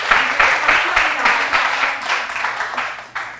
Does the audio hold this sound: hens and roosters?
no